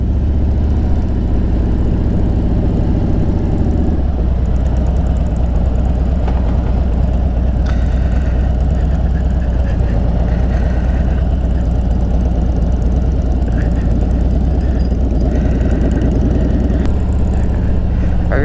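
A propeller airplane takes off at a small Florida airport near Cedar Key, its engine drone steady and prominent, heard from a car on the road with wind and road noise.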